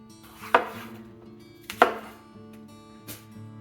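A knife chops green pepper on a cutting board in three sharp, separate strikes spaced over a few seconds, close and clear against a quiet kitchen background.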